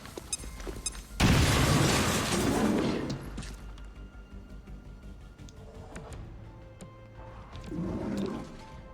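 A frag grenade goes off in XCOM Chimera Squad, a sudden loud roaring blast that holds for about two seconds and fades, followed by scattered game sounds and a second softer rumble.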